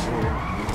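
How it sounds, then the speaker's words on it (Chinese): Tires of a Spyker C8 Aileron V8 sports car skidding in GTA 5, a brief, continuous squealing scrub under the engine drone. "打滑。"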